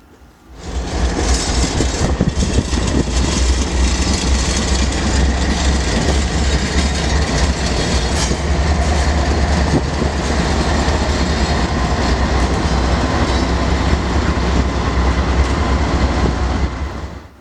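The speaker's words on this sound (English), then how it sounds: "Almost half this train was strictly boxcars." A freight train of mostly boxcars rumbles past close by in Galesburg, Illinois, loud and continuous, with rolling wheels and rattling cars carrying on for the whole stretch without a break.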